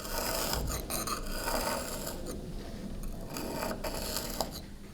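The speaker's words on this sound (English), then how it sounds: "Inlaying with hammer and chisel is one of the most cathartic parts of the" Hammer and chisel inlaying scagliola marble, a continuous scraping, rasping texture punctuated by several sharp taps at irregular intervals, close and fairly quiet, with no talk.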